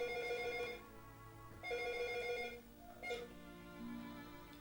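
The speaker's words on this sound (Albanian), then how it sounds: "Në shtëpinë e Aneta Shuteriqit, që në orët e para të mëngjesit ka tingëlluar zilja e telefonit." A telephone rings in a home in three repeated bursts, a clear electronic bell tone with pauses between rings and a low steady hum underneath.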